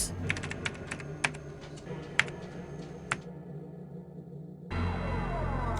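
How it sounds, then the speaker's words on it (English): Computer keyboard typing in the video game DarkSeed 2: a run of crisp, irregular key clicks for about three seconds, then a pause of near quiet before a low droning background swells in. "Slapping those keyboards"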